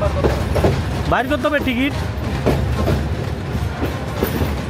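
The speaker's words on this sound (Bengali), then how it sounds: "এটা খুব ট্রেন ঢুকছে, ওস্তাদ ঢুকছে" A train rolls into a station in Bangladesh with steady rumbling and clickety-clack of wheels, plus a brief squealing tone, while nearby voices talk over it.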